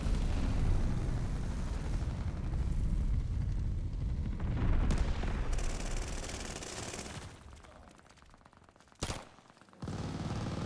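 Grenade blast amid heavy gunfire in a military shooter video game, a dense loud roar of explosion and rattling shots that fades, then sharp isolated bangs near the end.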